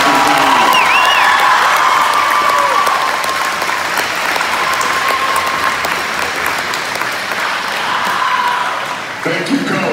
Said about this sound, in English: give a huge round of applause for your state veteran